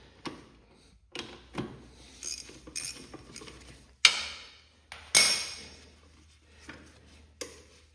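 A socket wrench working a nut loose on the front-end drag link of a Cub Cadet 1811 garden tractor, heard as a series of sharp metallic clicks and clanks, close up, with quiet gaps between them.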